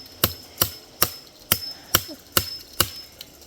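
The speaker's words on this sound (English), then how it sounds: "And that's how you use a hammer" Hammer blows ring out while a fence goes up on a small farm, seven sharp evenly spaced strikes about half a second apart, close and clear with no talk between them.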